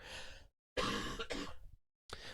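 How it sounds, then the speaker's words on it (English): A harsh, close cough in a couple of rough bursts, bracketed by brief breathy throat sounds before and after. "I'm probably gonna have to cough in a moment here."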